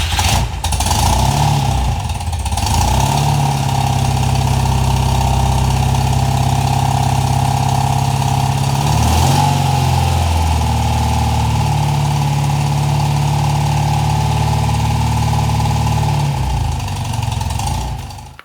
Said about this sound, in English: Cold start, demo, full choke, about 58 degrees.